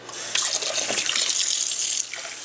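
Ceramic knives rinsed under a running kitchen tap, a close, steady splash of water across the blades that cuts off abruptly near the end, with no voices.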